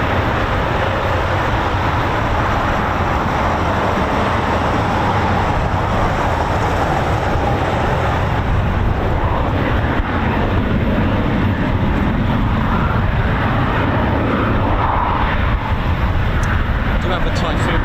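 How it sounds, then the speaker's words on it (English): A Eurofighter Typhoon FGR4 jet comes in at RAF Coningsby, heard as a loud, sustained, broadband roar that fills the whole stretch, with voices faintly underneath. "do have a Typhoon just coming in now."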